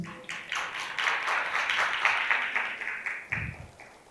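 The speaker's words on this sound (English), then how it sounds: "Let us continue to give a round of applause." Conference audience applauding after a keynote, a sustained round of clapping from a sizeable crowd lasting several seconds, moderately loud then tapering toward the end.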